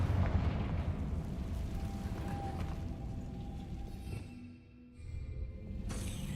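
A Confringo blasting curse explodes in Hogwarts Legacy, a loud rumbling blast that dies down over a few seconds, dips briefly, then flares again.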